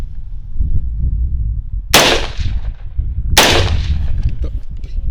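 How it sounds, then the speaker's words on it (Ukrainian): Two loud, sharp unsuppressed rifle shots about a second and a half apart, each cracking sharply and then echoing away over a low rumbling background. "робимо два постріли без глушника"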